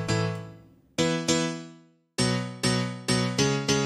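Processed piano in a music production mix plays chords, first sustained ones, then a short gap, then a run of evenly spaced struck chords that each decay quickly, loud and close with no voices.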